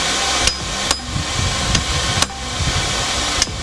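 A hammer strikes hot steel on an anvil while forging the shoulder of a shortsword. Five sharp, ringing metallic blows land at an uneven pace over a low steady hum, close and clear.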